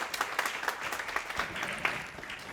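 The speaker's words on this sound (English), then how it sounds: "let's welcome with a very big thunderous round of applause." An audience applauds to welcome a speaker at the Advantage Vidarbha forum in Nagpur: a steady, fairly quiet patter of many hands clapping, with a few sharper claps standing out and no speech.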